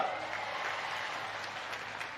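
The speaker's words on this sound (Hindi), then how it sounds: "तालियां बजा के स्वागत करिए फिर सबका।" A crowd at a political rally claps steadily and densely throughout, a sustained wash of applause with no pauses.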